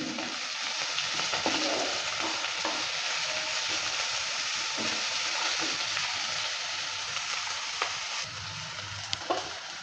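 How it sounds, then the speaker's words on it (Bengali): Chopped onion, carrot and capsicum for veg chowmein sizzle steadily as they are stir-fried in a pan, a continuous close frying hiss with occasional scrapes and taps of the spatula, no talking. "গাজর আর ক্যাপসিকামটা দেওয়ার পর ভালো করে আবারও নেড়ে চেড়ে নিচ্ছি"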